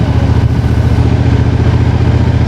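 A Triumph Thunderbird 1600 motorcycle engine idles nearby with a loud, deep, lumpy throb, its steady low pulsing beat continuing without a break and no talking over it.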